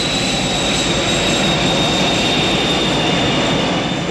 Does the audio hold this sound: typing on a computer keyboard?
no